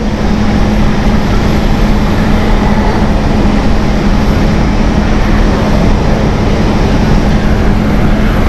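A loud, steady roar of an Embraer E2 jet engine close by at Amsterdam Schiphol Airport, with a constant low hum running underneath, unbroken for several seconds.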